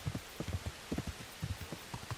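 Rain falls steadily in Bohemia, with drops striking a nearby surface in uneven clusters of soft taps over a continuous hiss.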